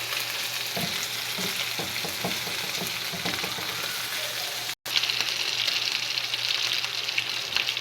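Tibs, cubes of meat, frying in a pan with sizzling hiss and scattered crackles, punctuated by stirring scrapes early on; a brief cut midway, then steady close sizzle continues alone.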